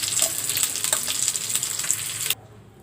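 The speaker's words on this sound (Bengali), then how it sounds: "আপুরা দেখুন চিকেন ফ্রাই হয়ে আসছে, আমি এখন উঠিয়ে নেব" Chicken pieces deep-frying in hot oil for chicken fry, a loud, busy crackling sizzle with popping bursts that cuts off abruptly near the end, leaving only a faint hiss.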